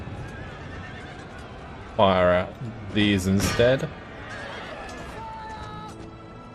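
Horses whinny loudly twice in quick succession amid hoofbeats and battle noise in the strategy game Empire: Total War, with a voice speaking briefly.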